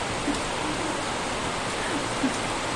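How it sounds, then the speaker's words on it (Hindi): Heavy monsoon rain pours steadily outdoors in an Indian home setting, a dense, unbroken hiss filling the whole stretch with no voices over it. "इतनी ज़्यादा देखो, इतनी तेज से आया है बारिश।"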